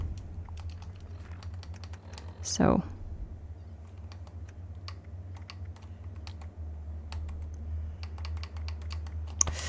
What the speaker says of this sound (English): it's picking up my keyboard and my other stuff in the background